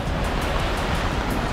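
Ocean waves by the Gateway of India in Mumbai make a steady, loud wash of surf with wind noise on a rainy day, no voices over it.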